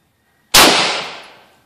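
A single sharp, loud gunshot from a Tavor rifle fitted with a Tav-D trigger, fired outdoors at a brick target. The crack is followed by a long, decaying echo that fades over about a second.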